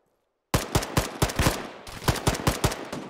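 A Humvee-mounted gun in a video game fires after a brief silence, loud close shots in a quick, uneven burst of about a dozen rounds with rumbling echo between them.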